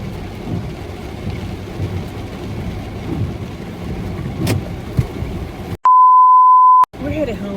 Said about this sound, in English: It's pouring out raining.